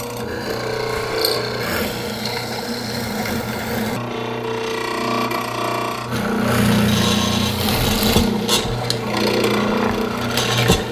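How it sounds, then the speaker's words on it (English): A mortise machine cuts mortises into walnut frame pieces for a curved-front buffet, producing continuous grinding and rasping close by, with a brief quieter pause midway before the cutting resumes. "The mortise machine does a really good job of cleaning out most of that material"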